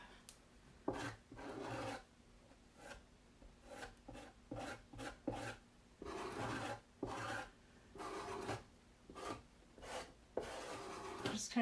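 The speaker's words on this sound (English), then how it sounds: "Kind of smoothing out any lines from the squeegee" A squeegee is worked over a surface to smooth out lines, giving a series of quiet rasping strokes, about a dozen in uneven rhythm, each a brief scraping rub with short pauses between.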